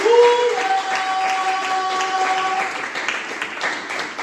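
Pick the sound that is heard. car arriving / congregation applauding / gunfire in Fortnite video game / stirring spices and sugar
congregation applauding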